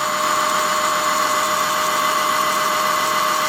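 An electric motor runs on a VESC controller during a lab test at low duty cycle, giving a constant tonal whine with a steady hum and no change over the short stretch.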